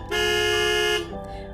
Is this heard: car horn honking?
yes